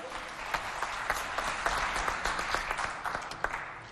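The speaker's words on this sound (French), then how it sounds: "Applaudissez pour vous." A crowd claps steadily, a dense patter of many hands, fairly close and sustained for a few seconds.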